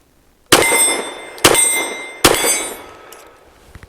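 An empty pistol magazine from a Fusion Firearms XF Pro drops free, giving three sharp metallic clangs with ringing tails spaced under a second apart, followed by a couple of faint small ticks, loud and close in a quiet room.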